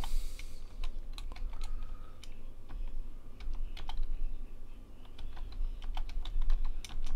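Rapid typing on a computer keyboard during a typing-tutor drill, with crisp, uneven key clicks close to the microphone that run continuously and alone.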